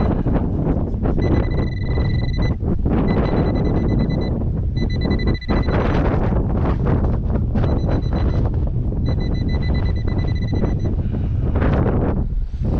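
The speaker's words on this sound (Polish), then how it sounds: "Na wiatr nic nie poradzę." Loud, constant wind buffeting a microphone outdoors during metal detecting, a dense rumbling roar throughout, with a faint repeated electronic beeping tone cutting in and out underneath.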